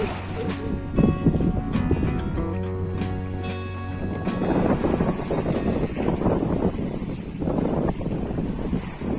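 A sailboat beats close-hauled in light wind with some waves on a coastal passage near Palavas and Sète. Wind buffets the microphone steadily, and water rushes along the hull under it. No one speaks.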